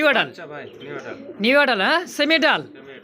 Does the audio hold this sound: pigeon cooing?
yes